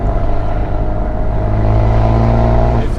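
A Fiat 124 Spider Abarth fitted with a big turbo revs hard, its engine holding a loud, steady, buzzing drone before dropping off, close and with no voices over it.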